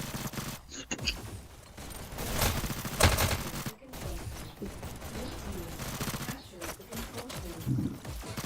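Bursts of SMG fire in a competitive VR shooter esports match, dense rapid gunfire sustained across the stretch amid game noise, with commentators talking over it.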